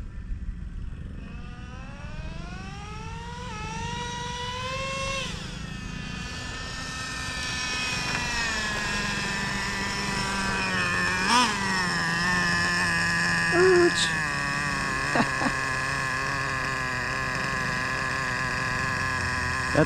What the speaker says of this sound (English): That there's a nice clean nitro idle.